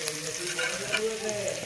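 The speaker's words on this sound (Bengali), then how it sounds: "আলু ভাজা হচ্ছে," Potatoes fry in hot oil with a continuous bright sizzle and occasional stirring scrapes in a home kitchen, close and steady, with faint background voices underneath.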